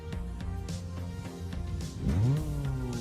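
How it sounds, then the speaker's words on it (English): Engine of a low-power starter car in CarX Drift Racing Online, driven with a steering wheel, drones steadily with harmonic tones, then rises sharply as it revs up in the last second; no talk. "I think it's fairly decent, the engine sounds here on this game."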